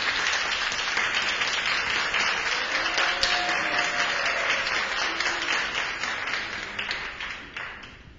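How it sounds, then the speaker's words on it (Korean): A large audience applauds a dancer after a performance at a citizens' college opening ceremony, a dense, steady wash of clapping that holds for several seconds and slowly tapers toward the end. "아름답고 인상적인 무대를 선물해주신 강민호 무용가님께 큰 박수 부탁드립니다."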